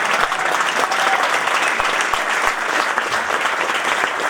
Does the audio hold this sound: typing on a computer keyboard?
no